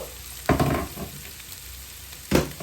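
Ground beef and black-eyed beans chili with carrots cooks in a pot, a soft steady sizzle broken by two louder bursts of stirring or scraping, heard close and without talk.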